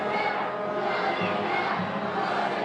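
A crowd of demonstrators during a riot at UC Berkeley, dressed in black and marching with a banner, roars in a dense, continuous wash of shouting and cheering voices, loud and near.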